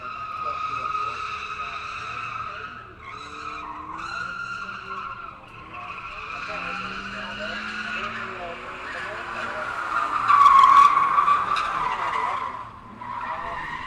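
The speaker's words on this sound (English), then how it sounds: "Bit of front lock there, trying to get the car to pivot by giving it a dab of foot brake." Subaru BRZ drifting, its tires squealing in a long continuous howl that rises to a louder peak near the end, with engine noise underneath and a voice talking over it.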